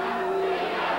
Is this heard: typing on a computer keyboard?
no